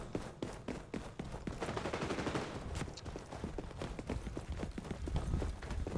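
Rapid gunfire from the XDefiant multiplayer shooter, dense overlapping shots and impacts crackling steadily throughout with no pauses, loud and busy like a close firefight.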